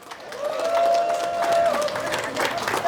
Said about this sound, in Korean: 우리를 모두 위하여 박수!